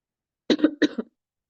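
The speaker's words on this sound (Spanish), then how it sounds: "Les pido disculpas por mi ataque de tos." Two quick, harsh coughs in close succession, loud and close, with silence before and after.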